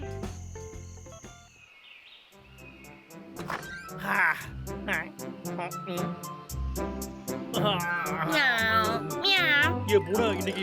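A cartoon cat meows several times in a Tamil animated show, bright wavering cries rising over a busy bed of music and sound effects, with characters talking around them.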